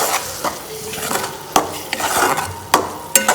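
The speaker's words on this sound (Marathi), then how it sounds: "पहिलेच टाकू आपण बीटला थोडं फ्राय करू दे" Beetroot, already half cooked, fries in a pan for pav bhaji, a steady sizzle broken by sharp scrapes and clinks of a spoon stirring against the metal, close and fairly loud with no talking.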